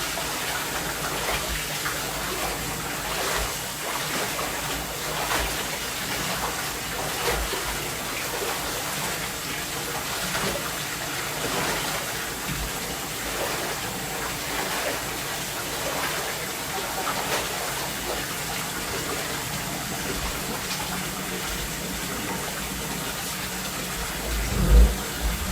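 Hot water swirls and sloshes steadily in a bathtub as it is mixed with a few drops of oregano oil, a continuous close gushing wash with a brief louder splash at the very end.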